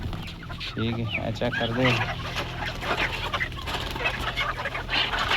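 Chickens cluck steadily in a poultry farm shed under continuous background noise, while people talk nearby over the birds.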